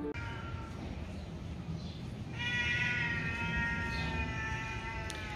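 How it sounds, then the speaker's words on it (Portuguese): A small abandoned kitten on a house's sidewalk meows repeatedly in thin, high-pitched cries that swell louder midway, heard fairly close over steady background noise. "Abandonaram esse gatinho aqui na calçada de casa."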